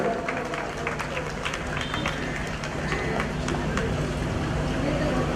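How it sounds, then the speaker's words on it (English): Audience applauding children at an Independence Day prize ceremony in a railway divisional office, a dense, even wash of clapping with crowd murmur and voices mixed underneath. "Please do give these kids a good round of applause, ladies and gentlemen"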